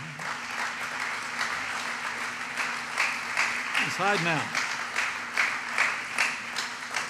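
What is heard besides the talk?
round of applause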